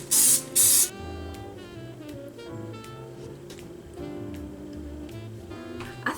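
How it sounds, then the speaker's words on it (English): Two quick bursts of cooking spray coat a muffin tin in a home kitchen, each lasting about a third of a second, heard over soft background music. "I'm just going to spray this muffin tin."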